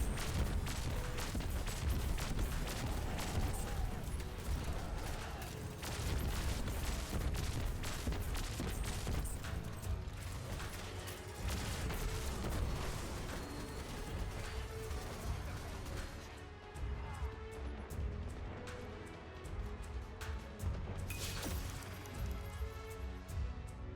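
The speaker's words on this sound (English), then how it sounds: "120 RPM grenade launcher that's able to hold as many as 28 total grenades" Destiny 2 grenade launcher, a 120 RPM weapon, firing rapidly with dense overlapping explosions in a continuous barrage, loud throughout with a brief lull near the end.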